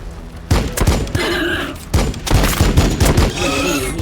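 Gunfire from the Warhammer 40K Battlesector strategy video game: loud bursts of rapid shots and heavy thuds in several volleys, with a brief lull before renewed firing.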